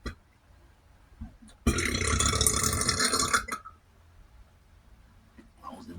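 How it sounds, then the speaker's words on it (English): A deep, long burp from someone eating eggs, rice, bitter melon and chilies at a mukbang meal, loud and rasping for about two seconds, with quiet sounds before and after. "Oh, those are good burps."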